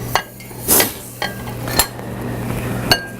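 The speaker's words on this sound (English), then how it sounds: "And we just simply stir it up real good, mix it up." Spoon scraping and clinking against a bowl while dry ingredients with instant milk powder are stirred together, a few sharp clinks amid soft scraping, close and alone.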